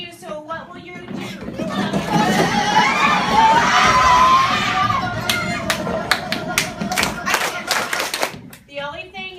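Children in a classroom activity scream, shout and cheer loudly together, building to a sustained peak before breaking into scattered claps, thumps and taps.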